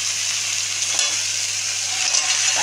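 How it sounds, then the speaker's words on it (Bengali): Crab is added to a hot pan of curry and stirred, giving a continuous close sizzle with light scraping over a couple of seconds. "এবার কাঁকড়াটা দিয়ে দিই,"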